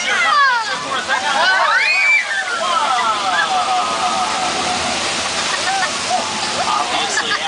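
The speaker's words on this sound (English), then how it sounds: "That flood is created by dumping thousands of gallons of water from the top of the hill." Thousands of gallons of water are dumped down a hill as a flood effect on a Universal Studios California theme park ride, making a loud, continuous rushing and sloshing roar. Voices carry faintly through the torrent.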